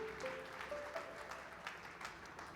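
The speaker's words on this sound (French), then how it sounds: "Grand applaudissement encore et toutes nos félicitations encore." Applause from an award-event audience, a steady moderately quiet wash of clapping filling the whole moment with no voices over it.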